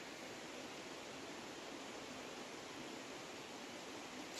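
River flowing at a wild camping spot, a steady soft broadband rush of water with no talk, even and unbroken throughout.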